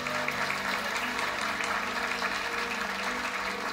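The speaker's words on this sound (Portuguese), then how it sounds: "Uma salva de palmas para o William." Audience applause at a church gathering, a steady, moderately loud crowd clapping with a faint low hum beneath it.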